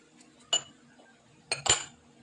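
A utensil clinks against a bowl while pepper, salt, onion and flour are mixed together: two short bursts of light metallic clatter, close and fairly quiet, separated by a pause.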